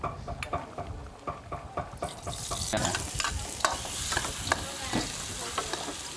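Garlic and onion fry in hot vegetable oil. Stirring scrapes and taps come first, then a loud sizzle rises and continues beneath the repeated utensil clatter.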